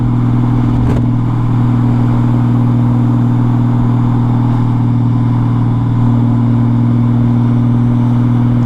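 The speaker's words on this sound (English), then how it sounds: "I'm just out here cruising on the Goldwing" Honda Goldwing motorcycle cruising ahead of rainy, windy weather, a loud steady engine hum held at an even pitch with wind noise over it, no talk.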